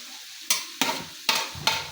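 Chopped onions with crushed ginger, garlic and sliced green chilli being stirred in a hot pan, four sharp scraping stirs breaking over a steady soft sizzle, close and fairly loud.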